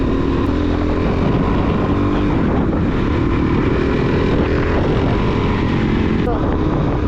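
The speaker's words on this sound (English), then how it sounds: "Do need to put an exhaust on this thing. It's so quiet." Suzuki DRZ400SM supermoto ridden on the street with its quiet stock exhaust, a steady engine drone buried under heavy wind rush for several seconds.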